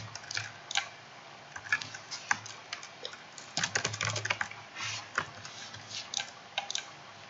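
Steady computer keyboard typing, quick irregular clicks in bursts with brief pauses, fairly close and quiet, no voices.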